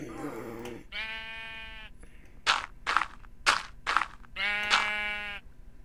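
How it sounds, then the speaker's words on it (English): Several sheep bleat in Minecraft, some long and wavering, others short and clipped, sounding fairly close with brief gaps between calls. "I hear sheep's. oh, there's a sheep."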